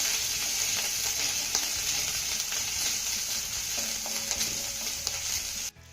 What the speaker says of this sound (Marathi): आता हे सर्व साहित्य आपल्याला अर्धा मिनिटं चांगलं परतून घ्यायचं आहे